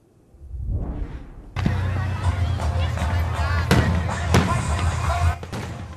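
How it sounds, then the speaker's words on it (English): A fireworks display at Jones Beach State Park on Long Island, with sharp booming bursts and crackling over a continuous rumble and crowd noise. "The Jovia Financial Credit Union Fireworks Spectacular will light up the night sky at Jones Beach State Park."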